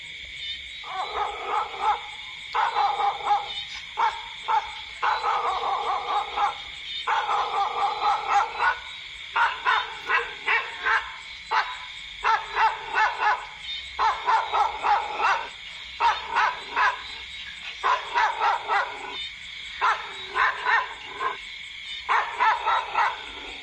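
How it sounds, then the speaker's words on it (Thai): Dogs bark and howl at night outdoors in a Thai village, a long run of repeated rhythmic barks and drawn-out howls at moderate distance, with no talking. "มีเสียงหมาเห่าด้วย"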